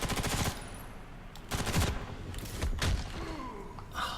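Rocket launcher in the Ghost in the Shell: First Assault shooter fires in loud, sharp bursts, roughly three blasts spaced over a few seconds with rumbling tails between them.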